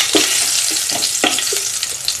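Cinnamon, cardamom, cloves and bay leaf dropped into hot oil for a jackfruit gravy, a loud close sizzle with several short spattering pops and stirring knocks.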